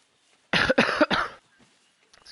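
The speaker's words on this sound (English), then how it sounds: "I have a terrible cough" A short burst of three or four harsh, close coughs in quick succession, followed by quiet.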